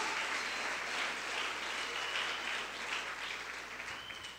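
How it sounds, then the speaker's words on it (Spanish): A church congregation gives the Lord a loud round of applause during a Spanish-language service, a continuous wash of clapping that slowly tapers off. "dale fuerte ese aplauso al Señor"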